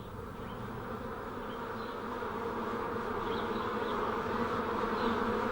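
Honeybees buzz steadily inside a hive, a dense continuous drone that is close and fairly loud throughout, with no voices.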